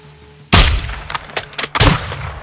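Loud gunshots in Modern Warfare II: a sudden sharp blast, then a quick ragged burst of shots and a final heavy volley that fades into echo. The shots are close and nobody speaks.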